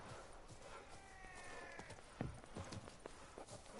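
Quick clip-clop of galloping horse hooves in The Witcher 3: Wild Hunt, fairly faint, mixed with a busy background of ambient noise.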